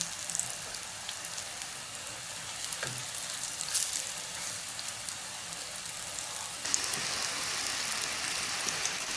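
Fish patties made from Baltic herring frying in oil in a pan, with a steady, moderate sizzle and crackle throughout, getting slightly louder toward the end.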